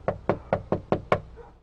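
Six firm knocks on a front door, evenly spaced and close by, each a sharp rap with no voices around them.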